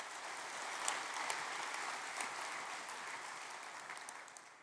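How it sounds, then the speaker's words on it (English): Sustained audience applause fills a keynote hall at the Ignite '19 conference, a dense, steady patter of many hands clapping at full strength that eases slightly toward the end, with no talking over it. "One more round of applause for these guys."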